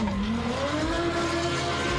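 A BMW 1M drifts on the CG Woodlandz track in a racing game, its tires squealing in a sustained, rising whine over a steady engine drone, loud and close.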